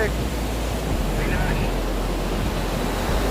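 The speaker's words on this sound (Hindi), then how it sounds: "लहर काफ़ी तेज है" Strong ocean waves surge and wash onto the shore at Corbyn Beach, a steady broadband roar of surf close by, continuous and fairly loud, with faint voices and wind in the background.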